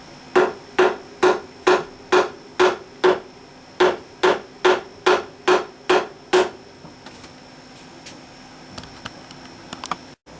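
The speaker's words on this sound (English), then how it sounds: "And then the rest of the way with the hammer." Sharp hammer taps seat frets into a Washburn guitar fretboard in a steady run of about fourteen evenly spaced blows, close and bright, then scattered faint knocks.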